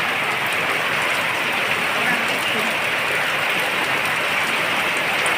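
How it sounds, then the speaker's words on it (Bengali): Heavy rain pours steadily and loudly all around a house with a tin roof, a dense unbroken roar of drops with no pauses. "দেখুন আপনারা বৃষ্টি কীভাবে নামছে"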